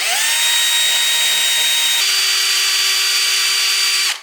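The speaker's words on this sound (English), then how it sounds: "I can easily put up this stopper, which means that's where I will stop drilling." A power drill bores holes into a guitar headstock for fitting locking tuners, giving a loud, steady high whine that shifts pitch partway through, then cuts off abruptly at the end.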